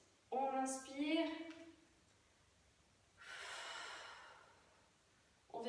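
A deep inhale during a fitness workout: a long, airy in-breath, preceded by a short voiced exhale and followed by the start of another breath.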